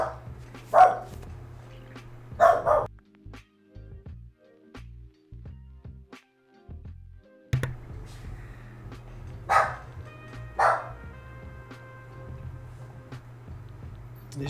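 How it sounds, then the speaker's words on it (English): A dog barks indoors in a few sharp single barks spread across the stretch, with a low steady hum in the background and quiet gaps between barks. "My apologies for the dog barking."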